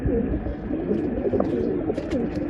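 Pigeons cooing at a pigeon sale in Bangalore, a dense, continuous layer of low throaty coos from many birds close by, with faint voices in the background.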